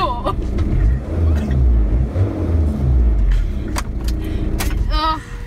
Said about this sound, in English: it's a nice big revy car in front, isn't it?